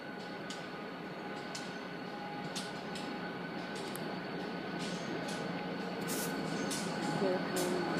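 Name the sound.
train passing over a railway bridge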